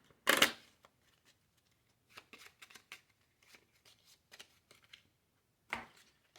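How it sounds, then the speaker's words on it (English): Cards are shuffled by hand for a tabletop space piracy game: a sharp riffle burst at the start, then scattered soft card slides and taps, and another short riffle near the end, quiet and close. "I have to shuffle, and then I have to shuffle to get the other 4"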